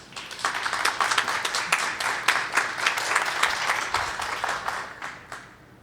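A hall full of people applauds at a Riga Graduate School of Law master's graduation ceremony. Steady, brisk clapping builds quickly, holds for several seconds, then thins out and fades.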